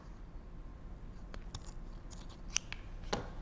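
Scissors snip through a hanging cord for a triangular clay pot, a few sharp clicks and cuts close by over faint room hiss, with no talking.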